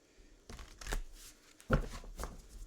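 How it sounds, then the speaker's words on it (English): A deck of oracle cards gets a quick shuffle nearby, producing soft papery riffles and taps in a few short bursts against faint background hiss. "We'll give it a quick shuffle and throw it around and see what Spirit throws our way."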